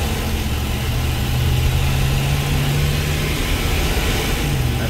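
A broken tow van's engine drones loud and close as it accelerates through automatic gear shifts, a steady rumble with a shifting tone, heard alone without talk.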